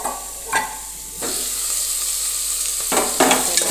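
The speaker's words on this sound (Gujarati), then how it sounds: "રાઈ જીરું કકડી ગયા છે હવે નાખીશું હું મીઠો લીંબો ડુંગળી બટેટા" Curry leaves, onion and potato drop into hot oil tempered with mustard seeds and cumin for savory rice, and the loud sizzle swells and holds with a few stirring clatters up close.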